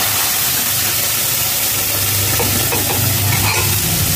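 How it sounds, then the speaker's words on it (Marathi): Mashed vegetables stirred into sizzling masala in a pan for pav bhaji, a steady close frying hiss with scraping stirs throughout, no talking. "आता ही भाजी आपण मॅश करून घेतलेली ती त्याच्यात"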